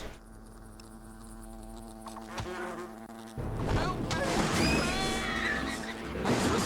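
Wasps swarming during a quest in the Fable Anthology video game, a thin insect drone that swells into a louder, busier buzzing mixed with game effects.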